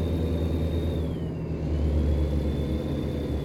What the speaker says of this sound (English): Oh, listen to that truck.